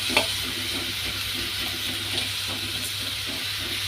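Maggi noodles hitting a frying pan give a steady, moderate sizzle with faint stirring and clinks in a home kitchen, no talking.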